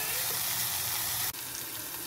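Ginger and garlic paste frying with sautéed onions in a pan for qeema naan, giving a continuous moderate hiss and sizzle with one brief dip in the middle, no voices.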